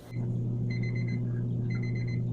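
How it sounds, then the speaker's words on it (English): A timer beeps in short repeated bursts of high electronic tones in two groups, sounding over a loud steady low hum from aquarium equipment. "there's the timer"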